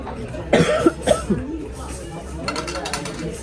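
A couple of short coughs close by, followed by a soft throat sound, with faint clinking of dishes and room chatter in the background.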